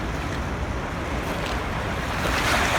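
Incoming tide washing onto the Thames foreshore in London, a continuous close rush of lapping water and surf noise mixed with wind buffeting, building slightly toward the end.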